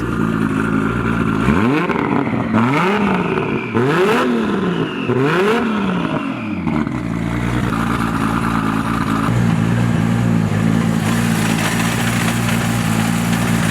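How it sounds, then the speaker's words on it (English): A tuned Toyota 2JZ engine in a Supra revs up sharply three times in quick succession, then settles into a loud, steady idle rumble. "Rev it up for us."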